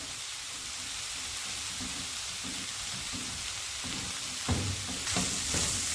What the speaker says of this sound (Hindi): हमने हल्का सा बस मैदे को भूनना है ताकि इसका कच्चापन दूर हो जाए।